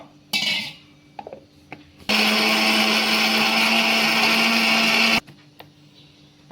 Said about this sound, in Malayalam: കുറച്ച് വെള്ളം ഒഴിച്ച് അരച്ചെടുക്കാം കേട്ടോ